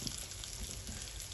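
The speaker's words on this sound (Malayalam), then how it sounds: "ഫ്രൈ ആയിക്കൊണ്ടിരിക്കുകയാണ്." Fish fries in a pan of oil at medium heat, giving a soft continuous sizzle and crackle up close with no talking.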